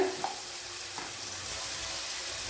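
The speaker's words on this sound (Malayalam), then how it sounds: "ഇതിലേക്ക് ഇനി അരച്ചു വെച്ചിരിക്കുന്ന അരപ്പ് ഒഴിച്ചു കൊടുക്കുക" Ground spice paste poured into beetroot frying in a pan, a steady bright sizzle with a couple of brief splashy hits near the start, then a continuous even hiss.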